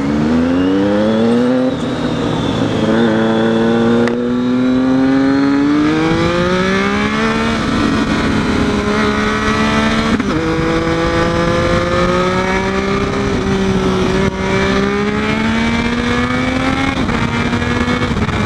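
A Triumph Street Triple and a Ducati 959 Panigale rev close by in Bath on a Saturday morning, loud engine notes rising and falling continuously through repeated throttle blips, with no talk over them.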